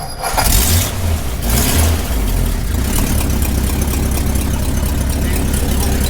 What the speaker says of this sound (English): I think it's running, Norm.